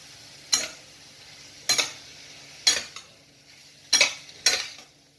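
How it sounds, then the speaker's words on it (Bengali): Pointed gourd and potato curry stirred in a pan, five sharp metal spatula scrapes and clinks spaced about a second apart over a quiet low sizzle, close, with no speech. "এটাও এক সেকেন্ড ঢাকা দিয়ে খুলে আবার নাড়াচাড়া করবো"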